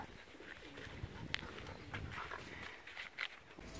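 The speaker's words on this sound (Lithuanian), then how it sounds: "43 paukštis atskrido" Racing pigeons at a home loft as a young bird returns, with soft cooing, light scuffs and footsteps, and a couple of brief sharp flutters or clicks over a quiet outdoor background.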